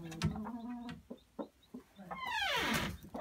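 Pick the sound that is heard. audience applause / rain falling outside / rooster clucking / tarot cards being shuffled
rooster clucking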